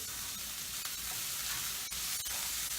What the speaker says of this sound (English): Okay, these are smelling good, so let me give them a stir.